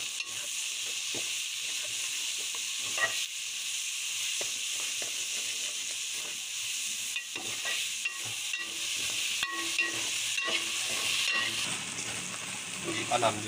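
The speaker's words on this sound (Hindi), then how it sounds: "प्याज को अच्छी तरह से फ्राई करेंगे।" Onions frying in hot ghee, a steady close sizzle and crackle with occasional stirring scrapes, continuing throughout without talk.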